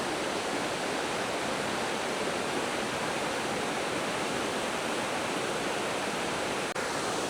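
The waterfall at Ladies Bath Falls on Mount Hotham roars as a dense, unbroken rush of falling water, loud and close, with no voices over it.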